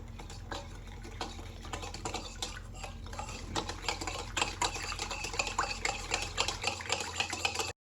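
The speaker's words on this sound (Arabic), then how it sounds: "وغادي نضيف عليها 2 ملاعق ديال الخل، وغادي نحرك مزيان" A spoon stirring warm water with two spoonfuls of vinegar in a bowl for Moroccan sfenj dough, a faint, steady swishing with light scraping and small clinks, close and continuous.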